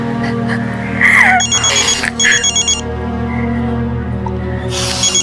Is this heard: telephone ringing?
yes